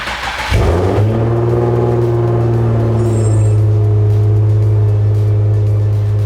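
An Infiniti G37 car starts up and settles into a loud, steady idle close by, with a brief cranking burst before the engine catches and holds an even hum as it is put in gear.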